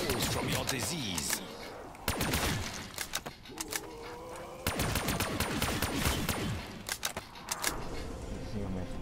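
Burst-fire weapon shooting in a zombies video game on the Catwalk map, with repeated rapid bursts of shots and layered game sounds, while a voice talks over the action.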